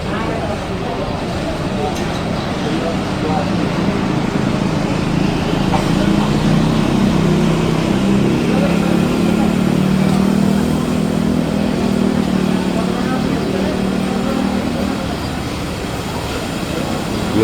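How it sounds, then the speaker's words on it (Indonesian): Large intercity buses roll into Purabaya bus terminal, a loud low engine rumble swelling and fading as vehicles pass nearby, with a busy station background and some voices. "memantau kedatangan bus di Terminal Purabaya"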